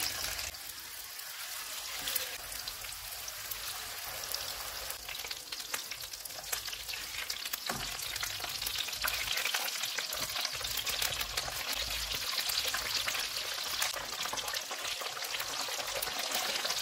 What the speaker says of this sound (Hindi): इस तरह से तैयार करके फ्राई कर लेंगे। ऑयल को मैंने गर्म होने के लिए रखा हुआ था। ऑयल गर्म हो गया